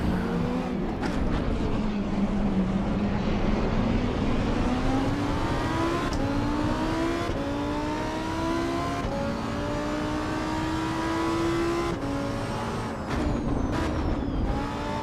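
A race car engine in the sim racing game Assetto Corsa EVO drones loud and steady, its pitch climbing and dropping through gear changes. No one talks over it.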